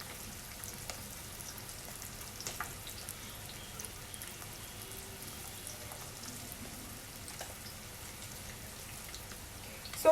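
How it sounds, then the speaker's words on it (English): Tofu lightly coated in corn flour pan frying, a faint, steady crackle and patter of hot oil running throughout with a few sharper pops, no talking. "So we'll just quickly pan fry this, lightly coat this in corn flour."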